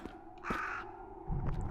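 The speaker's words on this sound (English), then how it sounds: "How is there a bird in this underground skeleton dungeon?" A single crow caws once, loud and close, inside an underground skeleton dungeon in the video game Kings of Lorn, over a low ambient game background.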